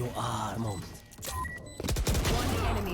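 Gunfire in a professional Valorant match, a burst of shots rising sharply midway and continuing as rapid loud reports, heard under an excited commentator's voice and game sounds.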